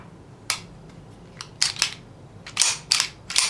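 A Kimber Raptor .45 ACP pistol being handled as its magazine and chamber are checked, a series of sharp close metallic clicks and clacks in quick irregular bursts, with no talk.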